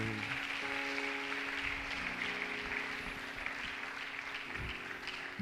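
A church congregation applauds God during a sermon, steady massed clapping heard from some distance, faint and continuous, with a sustained organ or keyboard chord held underneath.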